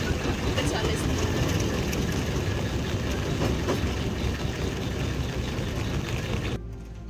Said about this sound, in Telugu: ఫెరీస్ దగ్గర నుండి ఐలాండ్ వెళ్ళడానికి టాయ్ ట్రైన్ ఉంటుంది.